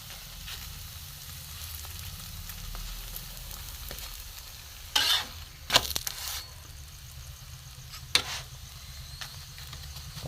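A paratha sizzles softly in a hot pan, a faint steady fry broken by a few sharp scraping clatters as it is flipped over, with no talking.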